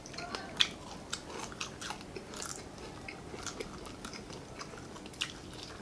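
Crunchy chewing and biting of Filipino silog food in a mukbang, with repeated close, crisp crunches and soft mouth sounds, no talking.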